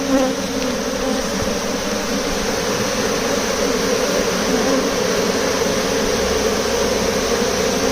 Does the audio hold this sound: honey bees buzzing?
yes